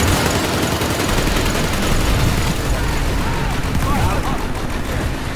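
Rapid gunfire rattles through a tank wars video game battle, a loud, dense, continuous barrage of overlapping shots with no pauses.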